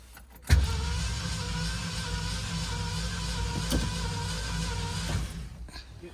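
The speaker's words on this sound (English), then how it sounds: "No, keep on cranking." A 1969 Mercury Cougar XR7 engine cranks over with the starter during a compression test. It gives a steady, close, sustained whirring drone for about five seconds that starts abruptly and then winds down.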